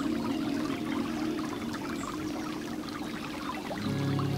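Stream water flowing steadily at a moderate level, a soft continuous wash and trickle heard close by with no voices, swelling a little louder at the very end.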